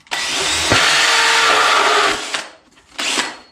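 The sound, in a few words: power drill drilling into cardboard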